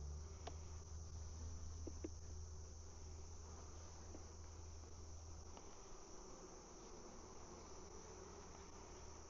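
A steady, dense hum of honey bees buzzing continuously at an open hive, with a faint low drone underneath and occasional small clicks.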